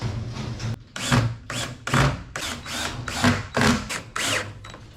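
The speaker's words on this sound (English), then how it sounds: "So we'll put some more screws, a couple more in here, about every 6 inches or so." A power drill drives screws into metal lath in a series of short, close bursts, about seven quick whirring pulses separated by brief pauses, moderately loud.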